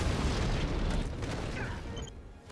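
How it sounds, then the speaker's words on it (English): An explosion in a Star Wars: The Clone Wars animated episode, a loud deep rumbling boom that fills the opening and slowly decays with debris-like crackle, close and heavy. "Kaboom."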